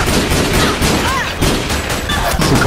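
Explosive combat from Metal Gear Solid 4, a dense wall of loud gunfire and blasts that never lets up, with bursts layered over one another through the whole stretch.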